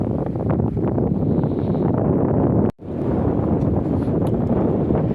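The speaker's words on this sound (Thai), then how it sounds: "โอ้ลมแรงจริงครับวันนี้" Strong cold wind gusting by the Mekong river in Nakhon Phanom, a loud, steady buffeting roar across the microphone with a brief cutout partway through.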